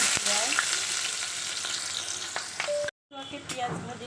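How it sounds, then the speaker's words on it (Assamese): Onions frying in hot oil for a local chicken curry give a dense, steady sizzle with stirring. The sizzle cuts out briefly near the end, then resumes. "পিঁয়াজ ভাজি লৈছোঁ"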